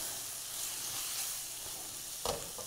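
Sauce stirred into a hot pan for nacho chip chicken, giving a steady broad sizzle throughout with a brief louder scrape of stirring near the end.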